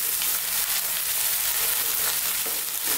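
Onions sizzle in a pan over medium heat for a keema curry masala, a steady close crackling hiss with faint scraping as they are stirred, no voices.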